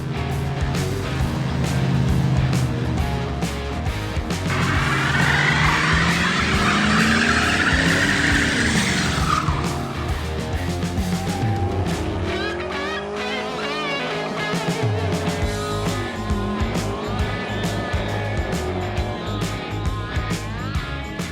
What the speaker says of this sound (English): first drive in the C60.